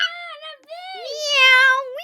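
A voice imitates a cat, drawing out a few high, wavering meows one after another, close and clear with no other sound behind.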